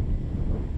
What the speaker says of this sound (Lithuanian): Vėjas grėsmingai kyla.